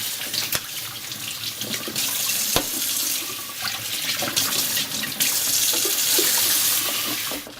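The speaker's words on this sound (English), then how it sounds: "And of course, we're going to wash them first." Chinese cabbage leaves are rinsed under a running kitchen tap, a loud continuous splash of water into a sink with brief knocks and handling noises throughout.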